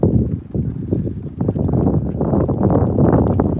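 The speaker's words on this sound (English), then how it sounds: "little bit more windy" Steady wind buffets the microphone in a continuous rushing roar, with a few soft footsteps or thumps underneath.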